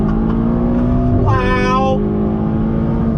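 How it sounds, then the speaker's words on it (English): A Ferrari GTC4 Lusso T engine drones loudly and steadily from inside the cabin under throttle. A voice briefly exclaims partway through. "All right, guys, on throttle, here we go."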